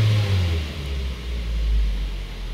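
Mazda 3 engine catching and revving briefly, a low rumbling surge that falls away then rises again, close by and moderately loud over a short moment.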